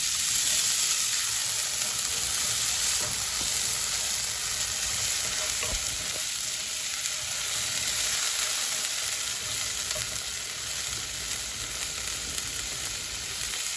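Ginger and garlic paste frying with lightly browned onions in a pan, a loud, continuous dense sizzle with occasional stirring scrapes, steady throughout with no voices.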